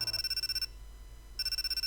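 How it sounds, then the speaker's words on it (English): Electronic cell phone ringtone from a visual novel game, a bright repeating chime pulsing in a steady rhythm, pausing briefly mid-clip, then resuming, loud and alone with no talk. "My cell phone suddenly rang."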